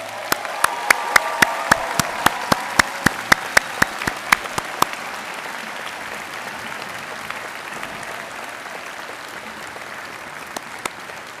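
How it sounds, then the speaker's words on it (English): Convocation audience applauding graduates at a university ceremony: sustained dense clapping that fills the hall at steady loudness, with a few sharper close claps standing out over the first half. "Let's have another round of applause for these amazing people"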